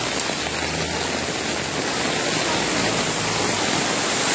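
Heavy rain pouring over flooding water, a dense unbroken hiss and rushing roar that stays loud and even throughout, with no voices.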